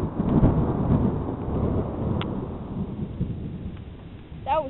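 Deep rumbling thunder from a nearby lightning strike during a storm with rain, rolling continuously and loud for several seconds before fading.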